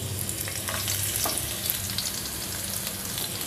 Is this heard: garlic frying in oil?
yes